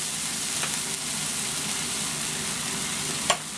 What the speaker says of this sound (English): I'm frying the cheese now